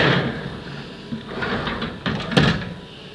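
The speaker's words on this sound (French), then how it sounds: "je referme la porte" Door of a machine tool being slid shut by hand, a rumbling slide followed by a couple of sharp knocks and a final louder clunk, close and fairly loud in a workshop.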